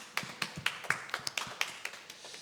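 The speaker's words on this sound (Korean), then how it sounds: "아버지 하나님께 큰 박수로 영광을 올려드리겠습니다." A small church congregation gives a round of applause to God at an early-morning special prayer service. About a dozen sparse, faint handclaps come in an uneven rhythm over roughly two seconds.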